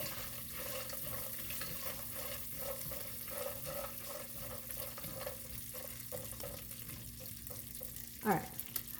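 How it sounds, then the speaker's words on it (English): Faint, steady sizzling of nuts toasting in a pan, with soft stirring clatter and a brief scrape near the end, quiet and close. "Man, that's sizzling."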